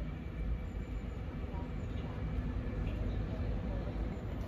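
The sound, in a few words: LNER passenger train passing through Cramlington station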